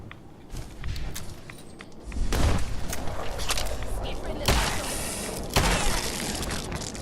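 Rapid gunfire in Fallout 4 as rad scorpions are shot, with bursts of sharp shots and impacts, loud and close, over ongoing combat noise while someone talks at times.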